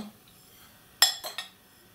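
Dishes clinking while beaten eggs are poured into a deep plate in a kitchen: a sharp ceramic clink followed by two lighter knocks in quick succession, close and otherwise quiet.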